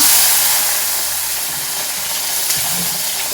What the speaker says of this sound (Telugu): మంచిగా వేయించాలండి వీటిని ఆయిల్ కొంచెం ఎక్కువ వేసుకోవాలి